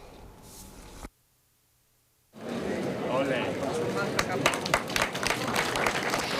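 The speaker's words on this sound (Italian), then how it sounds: "L'applauso finale e la banda" Final applause at the inauguration of the restored Palazzo Vaccari town hall in Pieve di Soligo, with a band present; a short burst of noise cuts to silence, then clapping swells from a crowd amid voices.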